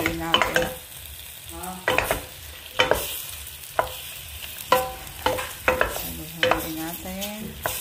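A spoon scrapes and stirs squid curry with basil and chili flakes in a pan, repeated clattering strokes over a soft sizzle, close and fairly loud, no talking.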